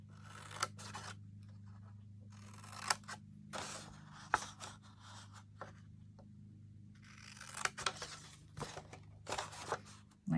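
Scissors trim scored cardstock for a Stampin' Up! paper craft project in repeated short snipping and rustling bursts separated by pauses, close and fairly quiet over a low background hum, with no talking.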